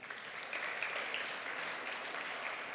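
Soft, distant applause from a church congregation, an even patter of many hands held at a low level throughout.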